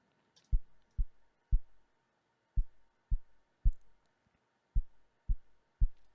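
A low drum sample from EZDrummer 3 played on its own, resembling a heartbeat: nine soft, deep thumps at a steady pulse with a short pause partway through, over a faint hum.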